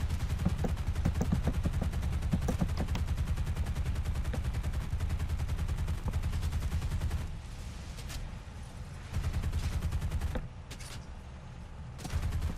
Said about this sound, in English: Now I'm over their base, and I'm getting shot up really bad.